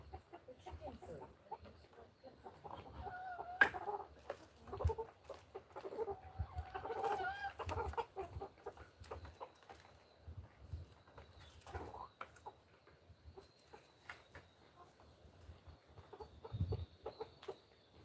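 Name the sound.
chickens clucking on a farm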